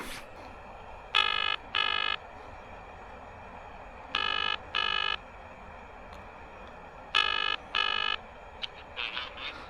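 An electronic ringtone chirps in three paired bursts, each pair of short buzzy trills separated by a few seconds, with faint outdoor background between, on a riverbank while fishing.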